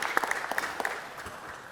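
Audience at a city council meeting giving a short round of applause, scattered claps that soften into a faint patter.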